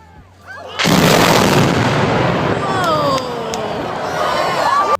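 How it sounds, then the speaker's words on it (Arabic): A bridge being blown up by demolition explosives: one sudden heavy blast rolls into a long, loud, sustained rumble, with a watching crowd's noise and whistles mixed in as it fades slightly. "طلعوا واقفين علشان يشوفوا لحظة تفجير الكوبري"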